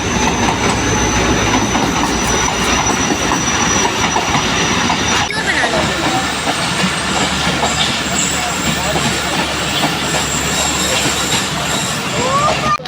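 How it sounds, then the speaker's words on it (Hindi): A train pulling into a railway station, loud and close, with continuous rumbling, clattering wheels on the rails and some squealing, plus the hum of the platform around it. "तो फ्रेंड्स यहाँ पे ट्रेन आ चुकी है।"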